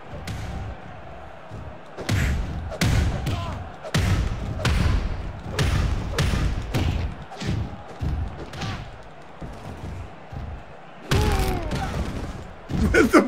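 Heavy thumps and slams from a Wrestling Empire match with weapons, including strikes with a curling weight, arrive in irregular loud bursts over a steady background, with a louder cluster near the end.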